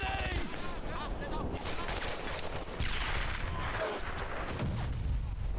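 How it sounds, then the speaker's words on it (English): Grenade blast amid heavy gunfire in the World War II shooter Brothers in Arms: Earned in Blood. Dense, loud bursts of shots and booms run continuously, with voices mixed in. "Throwing grenade."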